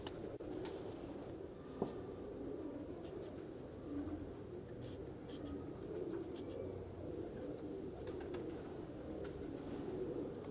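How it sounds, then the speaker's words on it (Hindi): Grey-winged pigeons coo steadily in low, soft, overlapping calls, with a constant hum of background noise and a brief click near the start. "ग्रे परों वाले कबूतर हैं नाज़रीन"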